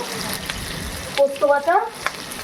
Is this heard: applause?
no